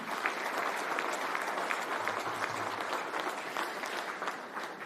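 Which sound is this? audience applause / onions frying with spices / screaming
audience applause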